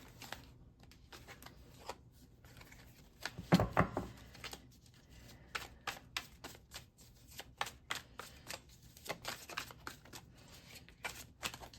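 Tarot cards being shuffled and drawn, with rapid riffling flutters, one louder burst of shuffling, then a run of crisp separate card snaps and slides, close and quiet.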